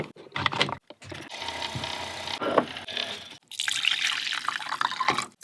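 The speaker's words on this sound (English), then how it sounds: "this little frother for milk for coffee, but it heats up water really quickly" Small electric milk frother heating water in an off-grid van, giving a steady whirring, bubbling hum with brief pauses and a burst of louder churning near the end, close by.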